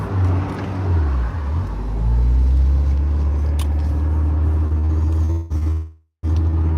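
A 2023 Honda Civic Type R engine with VTEC gives a loud, deep, steady drone from close by, with the pitch rising and settling during a rev. A brief dropout near the end is followed by the drone returning.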